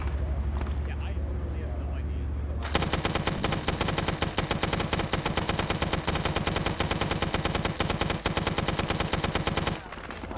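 Sustained incoming machine-gun fire in a Vietnam War game's defense of Khe Sanh, a dense rapid burst that starts a few seconds in and runs loud and close for about seven seconds, with faint background speech.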